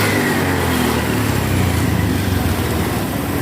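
Honda Beat FI scooter engine revving on a service stand, a close, continuous buzzing idle that rises slightly when the throttle opens and holds steady throughout.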